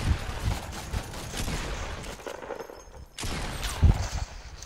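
Rifle gunfire in a Wild West video game, a cluster of rough bursts and cracks over busy game noise, with a loud sharp shot near the end.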